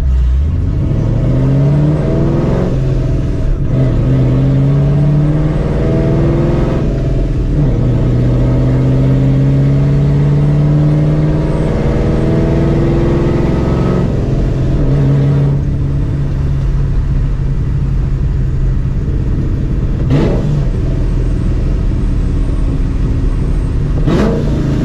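A supercharged 2004 Ford Mustang GT engine revs loudly while driving, rising and falling in pitch through several sweeping pulls with a steady whine throughout. It sounds close and continuous, with no talking.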